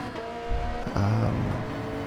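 Race car engine in Gran Turismo 7, on the approach to the tricky Spoon corner: a steady, loud engine drone with tonal bands that briefly shift pitch as the car downshifts and carries through the bend.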